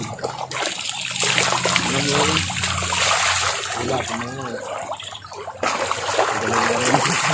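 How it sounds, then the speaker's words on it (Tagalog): Water pouring nonstop at a riverside bathing spot, a continuous close splashing and gushing stream that runs loud throughout, with faint voices in the background. "Walang kaubos-ubos ang tubig."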